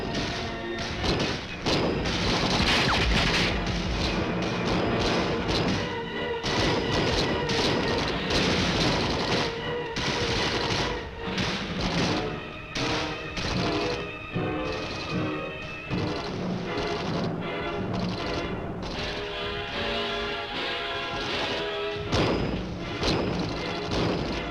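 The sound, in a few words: infantry rifle gunfire in combat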